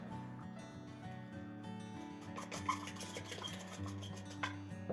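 Grated coconut being stirred with sugar, nutmeg and salt in a bowl, soft scraping and clinking of a utensil against the dish under a steady musical background, with a few sharper knocks.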